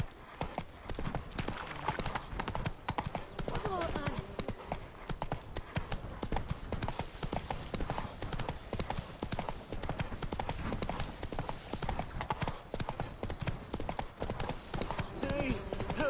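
Hooves of Geralt's horse Roach clip-clop steadily in The Witcher 3: Wild Hunt, a continuous close rhythmic trot under game music and ambience, with voices speaking over it at times.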